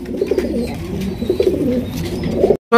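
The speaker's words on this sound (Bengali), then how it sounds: "এখানে রয়েছে একজোড়া বিউটি কবুতর, ব্ল্যাক বিউটি, একদম কালো কুচকুচে মাশাআল্লাহ" A pair of jet-black Beauty pigeons in a loft cooing close by, a repeated low, throaty rolling coo in short phrases with faint background chirps and noise.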